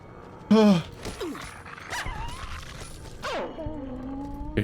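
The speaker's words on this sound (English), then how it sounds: "the dying dog noise is so loud that it's wearing me down" A dying dog in the Fallout: New Vegas video game gives a loud, sharp yelp, followed by drawn-out whimpering whines and moans that rise and fall over a low background.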